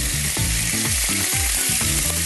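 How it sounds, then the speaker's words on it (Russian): Steak sizzles in oil in a very hot frying pan, a loud, continuous crackling hiss close by, with low clunks and tonal kitchen noise underneath. "На очень хорошо разогретую сковородку мы выкладываем мясо."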